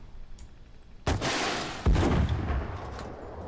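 Two heavy tank cannon shots ring out in the GHPC combat simulator, each a sharp booming blast followed by a rumbling decay, the second landing about a second after the first and slightly louder.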